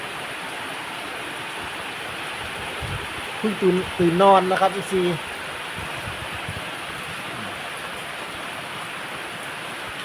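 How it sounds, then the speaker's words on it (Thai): Steady rain falls in a continuous broadband hiss. Someone speaks briefly partway through, his voice sitting over the wash of the downpour. "เพราะว่าฝนตกแล้ว"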